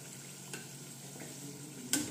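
Nimki namkeen frying in hot oil, being turned over now and then; a steady low sizzle with a couple of brief sharp scrapes or clinks, one near the end.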